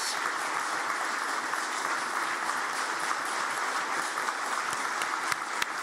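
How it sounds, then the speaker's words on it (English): Audience applause at the Ireland and Ukraine Economic Forum greets the Taoiseach and President Zelenskyy, a steady, even wash of many hands clapping that holds without pause from start to finish at moderate volume. "give a warm round of applause to Taoiseach Mícheál Martin and Ukrainian President Volodymyr Zelenskyy"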